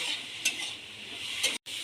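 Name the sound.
stirring spices frying in pan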